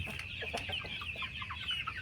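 Several chickens cluck in a coop, close, with a continuous busy chatter of short overlapping clucks and calls over a low background hum, no speech.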